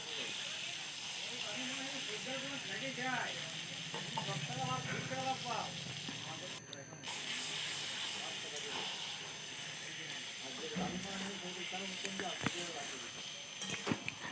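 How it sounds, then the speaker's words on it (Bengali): Mutton is being fried with onions and spices in a pan, giving a steady hissing sizzle that runs under continuous talking throughout. "এটা এবার ভালোভাবে পেঁয়াজের সাথে মিক্স করতে হবে মাটনটা ভালোভাবে এখানে ভাজতে হবে কষে নিতে হবে"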